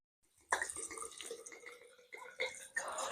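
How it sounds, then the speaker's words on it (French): Agricultural rum is poured into a maceration jar in short splashing gushes, close and fairly quiet, with a bright liquid gurgle that stops and restarts a few times. "Donc versez bien le rhum jusqu'en haut du récipient de macération"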